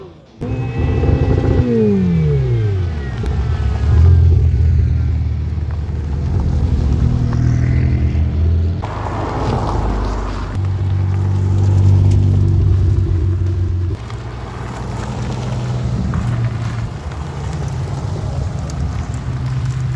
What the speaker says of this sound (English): we're going to film some of the cars pull in